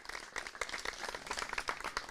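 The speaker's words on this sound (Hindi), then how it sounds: "उनका भी जोरदार तालियों से स्वागत करते हैं" A crowd at a farmers' forum applauds steadily, many hands clapping in a dense, continuous patter that holds throughout.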